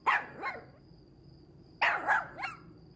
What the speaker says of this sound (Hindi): कुत्ता नजर आ रहा तुम्हें? काफी देर से मुझे घूर रहा है।